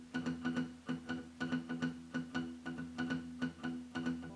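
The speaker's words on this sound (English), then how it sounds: "the strumming pattern mimics it, and it goes down, down, up, down, down, down, up, down, down, down, up" Acoustic guitar strummed fast in a swung down-down-up pattern for a Keep song intro, steady chords ringing with repeated accented strokes throughout, close and alone.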